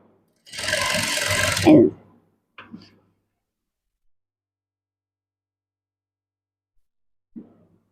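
A sewing machine stitching a star neckline on a blouse, one loud run of about a second and a half, then a couple of short, faint mechanical taps.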